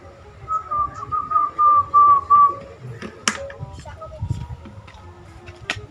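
A person whistles a clear, wavering melodic tune for a couple of seconds in a street performer comedy scene, followed by scattered clicks, taps and background voices.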